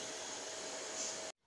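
Vacuum cleaner droning in another room, a steady whirring hum held at a moderate level before cutting off abruptly near the end, with no voices over it.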